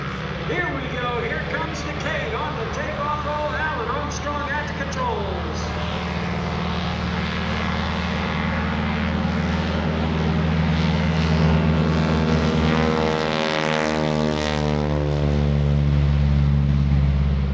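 A Vought F4U Corsair propeller fighter flies past at a lakeside airshow, its engine droning steadily and loud for the whole stretch, rising as it nears, with crowd noise underneath.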